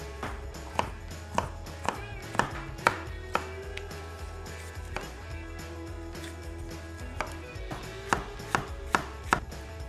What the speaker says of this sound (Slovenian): Dodala bom pa še različno papriko